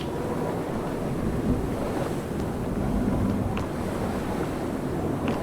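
Ocean waves in the video game Table of Tales: The Crooked Crown, a steady rolling wash of surf and wind around a sailing ship, continuous and moderately loud with no voices.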